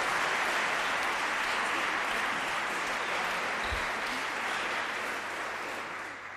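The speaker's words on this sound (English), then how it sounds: "I think that deserves a special applause" Sustained applause from a conference audience, a dense steady wash of clapping that carries on evenly for several seconds and tapers off slightly at the end.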